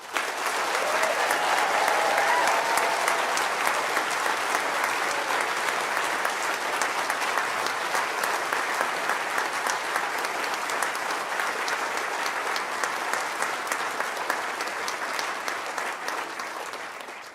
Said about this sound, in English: give another round of applause to the class of 2020